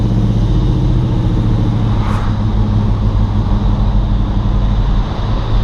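A 1973 Oldsmobile Hurst with a 455 engine accelerates hard, its loud, close engine roar rumbling steadily throughout with a brief rising surge partway through.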